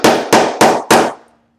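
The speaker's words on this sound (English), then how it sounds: "Drop the setter portion in there and give it a few whacks." Four sharp, evenly spaced hammer whacks on a leather snap setter, each a loud close crack with a short ringing decay, the last fading into a faint hum.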